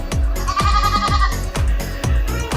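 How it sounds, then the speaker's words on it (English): A goat gives a rapid series of about five loud, close, wavering bleats in a quick rhythm, each call breaking sharply. "GOAT,"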